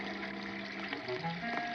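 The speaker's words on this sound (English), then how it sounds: "Bambi came to a small brook" A babbling brook on a vintage storybook vinyl record: a low, steady wash of running water that carries on evenly throughout, with faint tonal hum mixed in.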